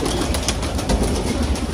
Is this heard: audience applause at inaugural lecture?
no